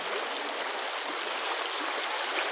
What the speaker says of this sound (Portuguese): Muita água aqui no Riacho Caioca, esse riacho que desce aqui rumo à Mutuca